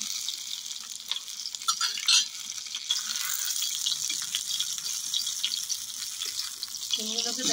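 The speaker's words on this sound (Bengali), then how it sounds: "সিমগুলো আমার খুব ভালোভাবে ভাজা হয়ে গেছে।" Broad beans (sim) frying in a pan for a curry: a close, steady sizzle with stirring scrapes and a brief louder burst, continuing without talk.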